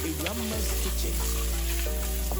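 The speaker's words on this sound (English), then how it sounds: "chopped onion. And you give it a good stir." Chopped onion frying in a pan, stirred with a steady close sizzle and a few scraping strokes over a low, constant hum.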